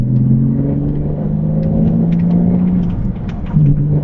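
A Porsche Cayman 987 sports car engine with performance parts fitted rumbles steadily with a low droning tone, revving slightly and shifting pitch as it pulls through a gear change, loud and close.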